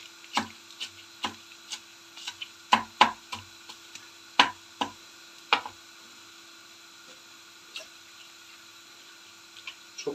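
Curly lettuce greens being chopped with a knife on a board, a series of crisp, close knife taps in irregular bursts with quiet gaps between.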